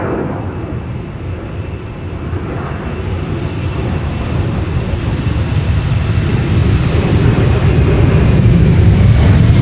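A KLM Boeing 767-300 roars through its takeoff run at Amsterdam Schiphol, a loud, steady engine rumble and whine building gradually, with no talk.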